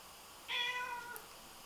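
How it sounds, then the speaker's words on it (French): A pet cat gives one clear, fairly loud meow close by, a drawn-out cry lasting about half a second against a quiet indoor background, with no talking. "Alors là, vous dites, ah mon chat"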